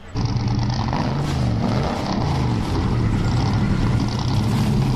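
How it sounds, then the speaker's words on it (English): Seventeen NASCAR race car engines roar together at the start of a 12-lap race at Berkshires Raceway, making a loud, dense, unbroken wall of engine noise that holds steady throughout. "And the 17 cars have fired up for 12 laps around this Berkshires Raceway"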